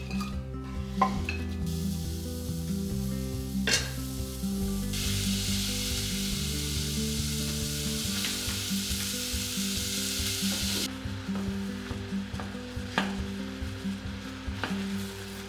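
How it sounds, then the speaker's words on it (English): Strawberries cooking down in a medium saucepan, a loud continuous sizzle and bubbling heard close up with occasional utensil clinks against the pot, under a sustained background music bed and with no talking. "We're going to take these strawberries and cook them down in a medium saucepan."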